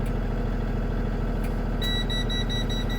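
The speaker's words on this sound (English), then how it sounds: "I had to crank the bus up." Thomas C2 school bus engine idling steadily after start-up, a constant low rumble throughout, with a beeping dash warning tone chiming repeatedly over it in the second half.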